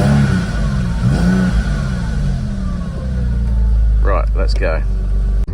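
A Porsche 996 car engine turns over and revs loudly, holding a steady low roar throughout, with a brief spoken remark near the end.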